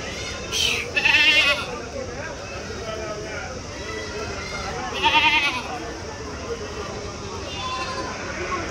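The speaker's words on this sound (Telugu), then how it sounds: "అన్ని మేకలేనా? అన్ని మేకలే." Goats bleat in short wavering calls at a Tuesday goat market in Kadiri, two louder bursts standing out over a steady murmur of voices and outdoor noise.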